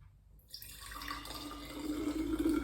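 Homemade raw, unpasteurised apple cider vinegar being poured into a container: a steady liquid stream that starts after a brief silence and grows fuller and louder as the vessel fills, with no talking.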